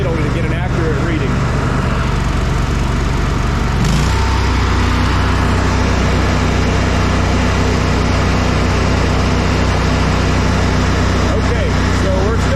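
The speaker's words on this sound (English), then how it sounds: "Alright, now we're at low idle" A CAT 977 track loader's diesel engine idles at low idle in a steady, continuous low rumble, with a short shift in pitch near the start as the revs settle, running alone throughout.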